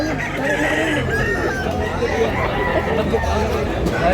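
Roosters crow and chickens cluck amid the bustle of Tabunok market in Talisay, Cebu, loud and close, with a constant crowd murmur and people talking throughout.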